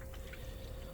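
Engine coolant from a Nissan G37 pours steadily from a bucket in a continuous, faint liquid rush with a constant low hum underneath and no talk.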